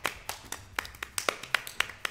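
Hand claps during a party hand-slapping game, about ten sharp claps in an uneven rhythm, close and moderately loud with faint background voices.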